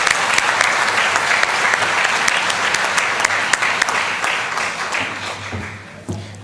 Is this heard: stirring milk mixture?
no